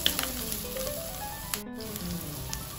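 Mung bean sauté with ginger and celery being stirred in a pan, a steady soft sizzle with faint scraping and no talk.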